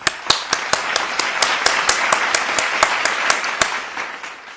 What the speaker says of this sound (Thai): ปรบมือให้ตัวเองครับผม